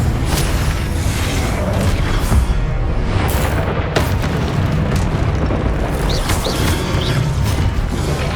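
A Confringo spell explodes in the Hogwarts Legacy video game, giving a loud, continuous wall of booming, crashing blasts and deep rumble that never lets up, with no voices.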